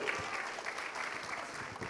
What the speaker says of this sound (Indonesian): tepuk tangan untuk Bang Asmir.